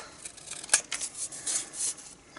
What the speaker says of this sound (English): So you just want to cut that excess off.